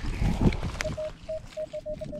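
A metal detector sounds a steady mid-pitched ringing tone over a buried target at an old homestead dig, repeating as short even beeps after a brief rustle and thump near the start.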